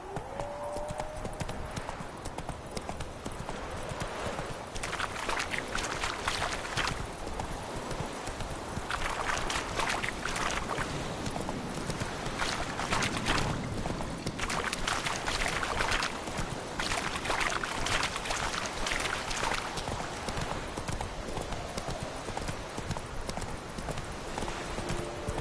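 Hooves of Roach, the horse in The Witcher, pound in a steady galloping clip-clop across the whole stretch, close and loud over faint rushing ambience.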